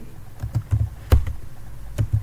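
Code is typed on a computer keyboard in a quick, uneven run of close, crisp key clicks, with one heavier keystroke near the middle and no speech.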